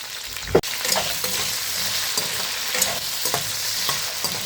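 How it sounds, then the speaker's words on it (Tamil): Okra with a little salt being stirred in a pan, spatula scraping and tapping in short irregular strokes over a steady soft sizzle, one sharp knock near the start, close and alone. "உப்பு வந்து கொஞ்சமாக போட்டுக்குவோம் மேலே போட்டுட்டு கிண்டி விட்டுக்கலாம்"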